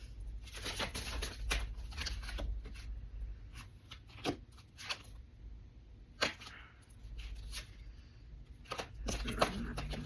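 Tarot cards being shuffled and handled at a table during a reading, with repeated soft riffling and flicking bursts spread through the clip, close and fairly quiet.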